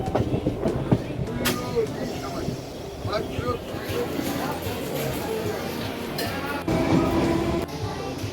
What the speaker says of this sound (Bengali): এই মুহূর্তে আমি রয়েছি কল্যাণী স্টেশনে